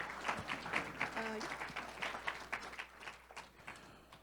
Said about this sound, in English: And applause for all of our winners.